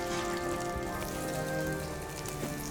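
Food sizzles steadily in a hot pan in a home kitchen, a continuous crackling hiss with faint tonal hum beneath, close and even in volume, no talking.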